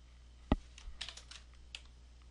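Typing on a computer keyboard while entering code, a sharp keystroke followed by a quick, light run of clicks, close and fairly quiet.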